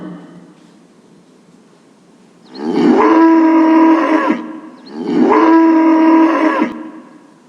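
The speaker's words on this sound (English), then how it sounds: "Cow." A cow moos twice, each a long, loud, drawn-out low call lasting about two seconds, separated by a short pause.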